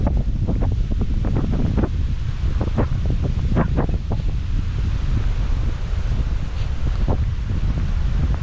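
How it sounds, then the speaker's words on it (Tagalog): Strong wind at the sea roars and buffets the microphone continuously, with surf rumbling underneath; no voices, just steady gusty noise throughout. "sobrang lakas ng hangin dito"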